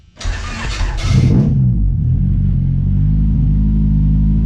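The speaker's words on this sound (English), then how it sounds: "I'm gonna start my car up anyways" A car engine cranks with a whirring starter, catches with a roar, then settles into a steady, deep idle rumble close by.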